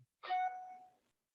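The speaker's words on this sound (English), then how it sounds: "I love that bell sound." A single clear bell ding rings out alone on a talk show segment, struck once and then ringing with a bright sustained tone that fades over about a second.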